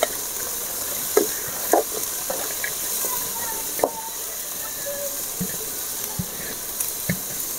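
Chopped vegetables, onion and tomato sautéing in a pan for spicy vegetable soup, a steady hissing sizzle with scattered clinks and stirring scrapes, close and moderately loud.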